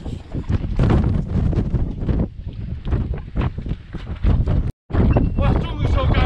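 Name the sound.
strong wind on the seashore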